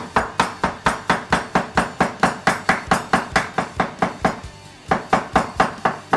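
A knife cuts thick pineapple slices on a board in a brisk, even series of sharp, loud chops, about four per second, with one brief pause before the rhythm resumes; no one speaks.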